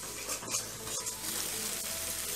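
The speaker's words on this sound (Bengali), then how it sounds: "মশলাটা যখন ভাজা ভাজা হয়ে আসবে একটু তেল ছাড়বে মশলাটার থেকে" Spice masala fries in oil for aloo dum with a soft, steady sizzle and occasional stirring clicks, close and fairly quiet.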